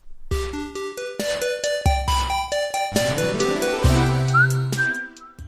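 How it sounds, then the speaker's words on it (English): A bright, bouncy whistled tune in a video-game style, played over plucky bass notes and percussive hits, repeating a catchy melodic phrase. "That whistling sound is going to get stuck in your head real bad."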